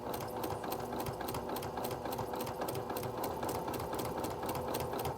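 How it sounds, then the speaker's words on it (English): A sewing machine runs steadily up close, its needle tapping in a fast even rhythm as it stitches a log cabin quilt block ornament with a quarter-inch presser foot. "I'm sewing it with a 1/4 of an inch stitch with my 1/4 of an inch foot"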